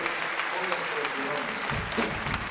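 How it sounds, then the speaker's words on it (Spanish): Church congregation clapping after a prayer, dense applause with scattered sharp claps, overlapped by voices and a rising musical hum near the end. "Fuerte aplauso al Espíritu Santo, por favor."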